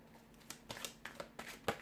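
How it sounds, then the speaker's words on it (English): Tarot cards being shuffled, a quick series of soft riffling snaps and papery flicks at an uneven rhythm, close and quiet with no voices. "we'll give the cards a shuffle"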